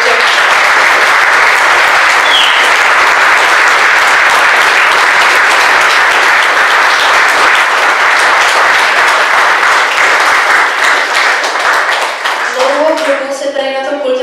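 Big, sustained applause from a crowd at a Czech Christmas event, dense clapping filling the space loudly for about twelve seconds before tapering off as a voice starts to speak near the end.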